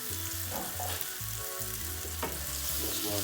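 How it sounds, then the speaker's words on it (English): Lobster frying in a little cooking oil for Jamaican rundown makes a steady, close, continuous sizzle for the whole stretch, with a low tonal hum running underneath. "Just want to make sure that it's fry out and all."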